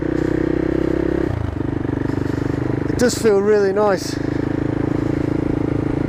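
CCM Flat Tracker motorcycle with a Husqvarna engine and exhaust, idling with a steady low throb under a voice, a brief rising rev at mid-clip before settling back to idle.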